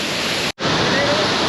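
Roaring waterfall at Iguazu Falls, a loud, steady broadband rush of falling water with a brief dropout in the middle.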